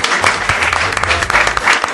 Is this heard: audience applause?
yes